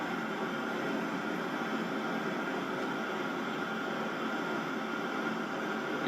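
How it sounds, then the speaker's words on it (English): A recording of airplane jet engine noise, played back for an earbud test, gives a steady, dense broadband roar with a faint high whine that holds evenly throughout, moderately loud and alone. "airplane jet engine noise"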